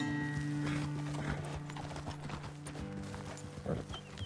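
Horses galloping in the open-world western video game Red Dead Redemption 2, rapid clip-clop hoofbeats with a whinny amid game music and ambience, rising and falling in loudness.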